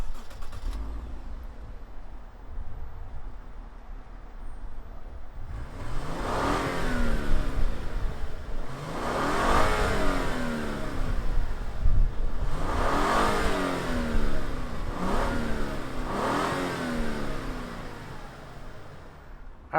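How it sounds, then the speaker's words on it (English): A 2019 Lexus LS500 F-Sport starts up nearby and is revved repeatedly, with four or five strong rising-and-falling engine surges over a steady idle, no voices. "let's fire up this LS500 and see if it makes any sound."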